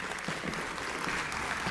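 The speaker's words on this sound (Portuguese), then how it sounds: "La recibimos con un aplauso, por favor" Conference audience applauding to welcome a speaker at an education event, a soft, steady patter of clapping from a moderately distant crowd, with no talk over it.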